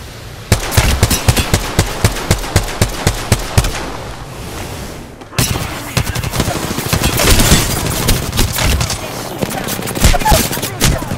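Automatic gunfire in the Apex Legends video game, rapid loud bursts of repeated shots followed by denser continuous firing and impacts, with game sound and no talk over it.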